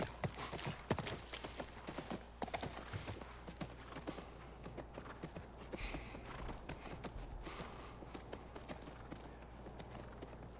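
Horse hooves in The Last of Us Part 1 thud along in an uneven walking rhythm, fairly close, over a low steady hum and soft background ambience.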